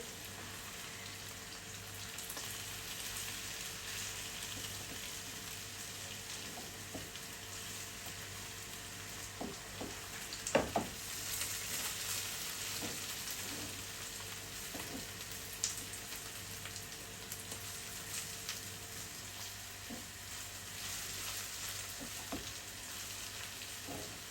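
A steady, crackling sizzle of potatoes frying in a pan, with occasional scraping and stirring clicks, and no voices.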